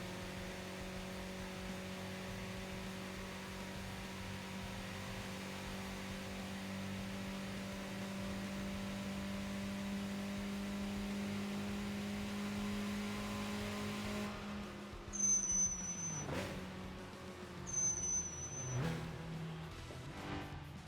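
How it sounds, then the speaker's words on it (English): A car engine hums steadily in the TXR 2025 racing game, its tone holding even at first, then revving in two sharp, loud bursts with falling whines near the end. "The engine noise actually is a little bit changed now."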